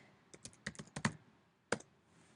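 Clicky computer keyboard keys tapped in a short burst of about ten strokes, then a pause and two more quick presses, close and fairly quiet with no voice.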